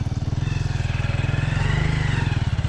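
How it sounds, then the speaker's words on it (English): Motorbike braking near a village home, a close, loud rapid pulsing mechanical judder with an engine-like throb that repeats evenly throughout. "That's the brakes on the motorbike guys."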